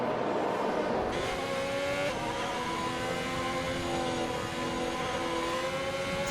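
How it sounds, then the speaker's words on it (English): Race cars in a racing video game on a track modelled on Britain, with a steady roar of engines droning and shifting pitch under and behind one another throughout. "So Rilo's leading the pack for the moment, while safety car is going in"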